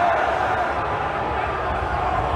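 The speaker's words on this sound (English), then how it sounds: "Are you booing because The Rock was supposed to be here at 4 o'clock?" A large sports crowd booing, a dense, sustained roar that stays loud and unbroken throughout.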